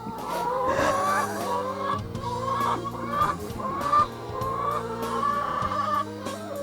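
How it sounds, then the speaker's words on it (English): Hens on a chicken farm cluck steadily and close, several birds chattering over a low rumbling background hum. "So a hen that lays an egg."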